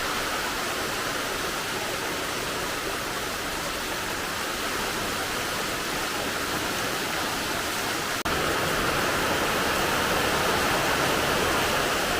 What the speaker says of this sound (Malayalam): മഴ ആരംഭിച്ച്